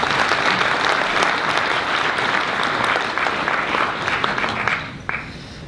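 A conference audience gives a warm round of applause, dense clapping from many hands that holds steady and then thins out and fades near the end.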